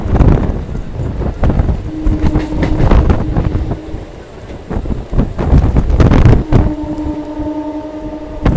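A Katwa–Howrah galloping local train rumbles along the rails, loud and close from onboard, with heavy wind buffeting, rhythmic wheel clatter and a sustained tonal hum near the end.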